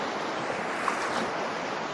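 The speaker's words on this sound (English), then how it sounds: "that's after those breaking waves right there" Ocean waves break on a sandy beach where people fish from the shore, a steady, close wash of surf with a hiss of wind across the microphone and no talk.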